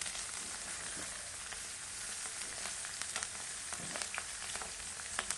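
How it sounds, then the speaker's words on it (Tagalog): Milkfish (bangus) head and tail frying in hot oil: a dense, continuous crackling sizzle with scattered sharper pops and spatters, close by and steady throughout, with no voices. "Ito yung mga natira, ulo at saka buntot. Kaya iprito na lang natin."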